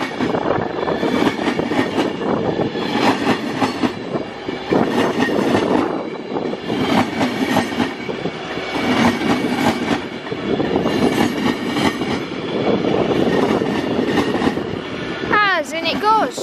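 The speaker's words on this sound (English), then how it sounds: "Here is Avanti West Coast 390-05, which is from Liverpool Lime Street." An Avanti West Coast Class 390 electric train passes through Crewe station, a long loud rumble with rhythmic wheel clatter and surges of noise, ending in a brief high squeal.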